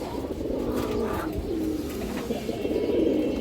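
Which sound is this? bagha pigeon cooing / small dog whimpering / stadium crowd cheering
bagha pigeon cooing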